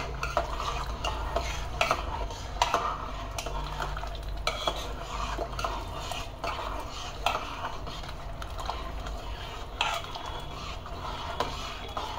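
A spoon stirs a thickening cornflour mixture in a pot without pause, scraping and knocking against the metal in a steady, uneven rhythm at moderate volume.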